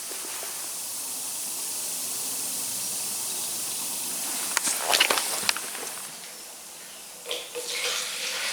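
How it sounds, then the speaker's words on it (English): Acid fizzes across a milking parlour floor as a steady, even hiss, with a few louder crackling bursts partway through and a brief bump near the end. "Can you hear it fizzing?"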